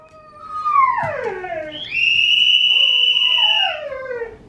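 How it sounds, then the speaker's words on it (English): Dogs howl in long rising and falling cries, several overlapping voices close by with a sustained high howl in the middle, loud and clear with no talk. "All the other dogs are howling."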